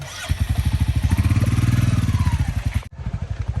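A motorcycle engine runs loud and close, its rapid rhythmic chugging steady, then briefly cuts out and putters again.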